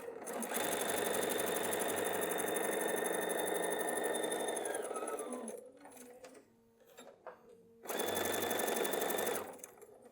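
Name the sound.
sewing machine stitching over flannel pad ties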